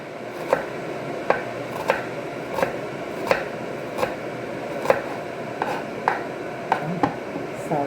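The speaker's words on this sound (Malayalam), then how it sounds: "സവാള എല്ലാം ഒന്ന് കട്ട് ചെയ്ത് വെച്ചിട്ട്" A knife chops onions on a board with a steady series of sharp, evenly spaced taps, close and moderately quiet, with no talking.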